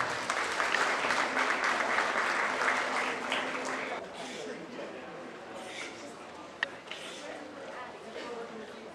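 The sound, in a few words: audience applause at a 4-H goat show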